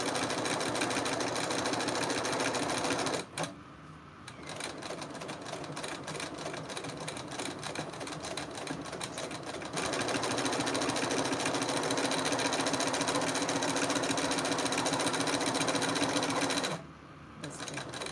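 A sewing machine runs at steady speed stitching quilt scraps, its motor whirring continuously and close by, pausing briefly twice with soft handling noises in the gaps.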